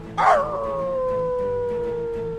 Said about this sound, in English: if a chain dies, Fenrir will howl